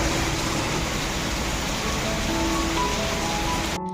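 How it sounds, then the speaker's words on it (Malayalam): Heavy rain pours outdoors as a steady, dense broadband wash that holds loud and constant before cutting off abruptly at the end. "എല്ലാം കഴിഞ്ഞതേ പുറത്ത് വന്നപ്പോൾ നല്ല സൂപ്പർ മഴ"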